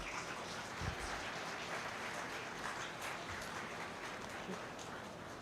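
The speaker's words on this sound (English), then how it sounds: "You have to clap for him" Dense, even applause from an Independence Day flag-hoisting gathering of prosecution staff, a soft, steady patter with no clear individual claps, continuing unchanged to the end.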